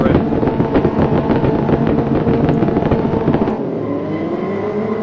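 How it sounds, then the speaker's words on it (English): Race cars in a racing video game roar off the start together, a loud dense engine blare with rapid crackling pulses, then one rising engine whine carries on more smoothly as the pack thins. "Hopefully you can hear me okay with the sound of the cars, etc."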